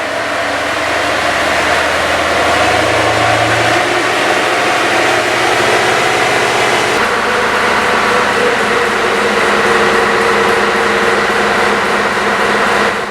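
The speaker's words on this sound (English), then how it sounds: "So Brian, I'm going to start up both trucks, swing them around, and let's see what this truck is developing." A 17-year-old Scania V8 480hp truck engine runs hard on a dyno indoors, a loud continuous heavy roar with a shift in pitch and load partway through, steady and close.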